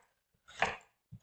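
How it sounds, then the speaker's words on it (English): A knife slices through a carrot on a board for vegetable soup, giving one crisp chop followed by a faint tap, alone in near silence. "These two, the carrots, we cut them in slice."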